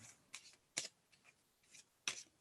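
Cards are shuffled in short, crisp riffling bursts, several quick flutters separated by brief pauses, close and quiet.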